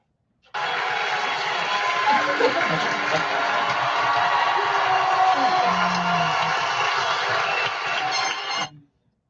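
Studio audience cheering and applauding on a talk show, a dense wash of clapping with whoops and scattered voices that starts abruptly, holds steady for about eight seconds, then cuts off.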